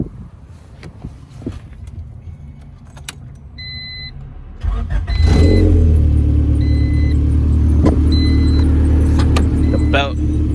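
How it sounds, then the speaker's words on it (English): A Honda CR-X Si with a B16 engine, shown with a loose alternator belt, starts up: keys jingle and a warning chime beeps, then the starter cranks and the engine catches into a loud, steady idle. "Let's go ahead and start up the car."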